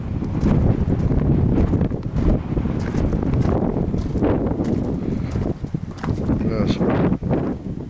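A gusty westerly wind in Strathbran buffets the microphone with loud, rumbling roars that swell and ease in waves, with a muffled voice at times beneath the noise.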